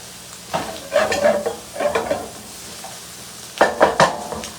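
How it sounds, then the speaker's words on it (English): Shrimp charring in a pan as taco seasoning is scraped from the bottom, producing several bursts of scraping and sizzling stirs separated by quieter gaps of low background hiss. "I'm also going to scrape up all of this taco seasoning that was stuck to the bottom."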